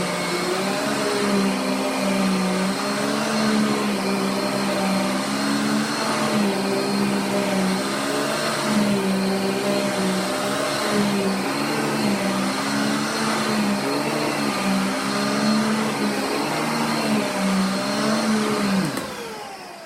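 A Simplicity Riccar Synergy Radiance upright vacuum cleaner with a direct-air motor runs steadily and loudly up close, its motor drone and hum holding for about twenty seconds before cutting off at the end, with no talking.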